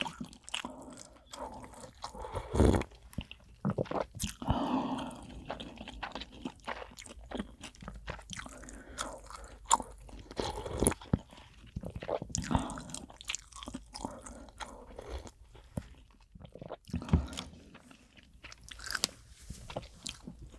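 Close, wet chewing and crunching of raw rock oysters in an ASMR eating session, with irregular bites and squelches repeating steadily throughout, loud and intimate with no talking.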